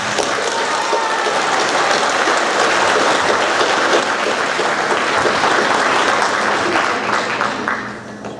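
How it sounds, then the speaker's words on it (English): Sustained audience applause at a school sixth-grade awards ceremony, dense steady clapping filling the room for several seconds before starting to taper off near the end. "So big round of applause after each student"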